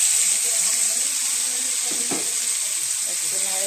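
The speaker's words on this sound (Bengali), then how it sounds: "ফোড়ন ভাজা হয়ে গেছে, এবার সজনা ডাঁটা আর আলু ভাজি" Moringa drumsticks and potatoes fry in hot tempered oil with a loud, continuous sizzle and crackle, with faint stirring and a trace of background voice.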